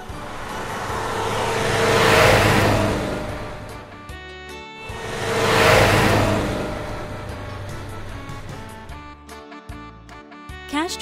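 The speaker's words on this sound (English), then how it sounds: "Roadster." A roadster car engine revs up twice in long swelling surges, each climbing and falling away, followed by a rougher idling stretch with short bursts near the end; loud and close with no talking.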